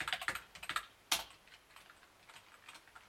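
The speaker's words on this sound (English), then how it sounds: "I know I type hard" Hard typing on a computer keyboard, quick bursts of sharp, close key clacks with a heavier strike midway and sparser taps after, fairly quiet overall with no talk.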